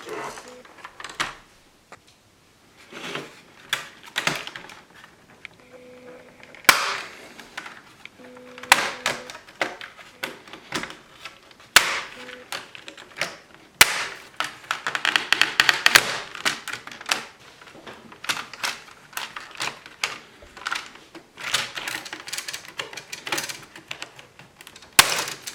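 Plastic housing of a Logitech G910 keyboard is pried open with a credit card: irregular sharp clicks, snaps and taps come in scattered bursts, close and fairly loud over near silence, with occasional talk.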